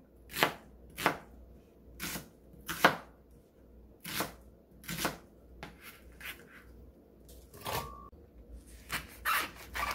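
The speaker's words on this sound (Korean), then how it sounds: "양파 중간 크기 2개 썰어서 믹서기에 넣어줍니다" A knife chops two medium onions on a cutting board in a series of sharp, irregularly spaced knocks, close by and without speech.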